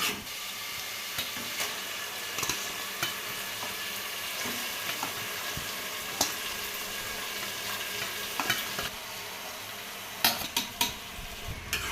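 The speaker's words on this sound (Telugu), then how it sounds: "టమాటాలు బాగా మగ్గాయి దీంట్లోకి మనం ముందుగానే మ్యారినేట్ చేసుకున్న చికెన్ని వేద్దాం" Marinated chicken frying on cooked-down tomatoes in a pan for a homemade chicken curry, with a steady close sizzle under intermittent stirring scrapes and metallic clinks of the spoon on the pan, and no voices.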